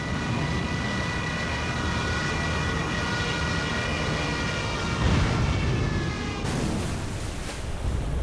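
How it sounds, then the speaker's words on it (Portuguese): Archival wartime footage of German Stuka dive bombers, with a rising, wailing siren and aircraft engine roar over heavy noise, the siren tones sustained and then shifting as the planes dive. "E os Stukas, os bombardeiros alemães, retomaram seus ataques de mergulho, aterrorizando os franceses com suas sirenes."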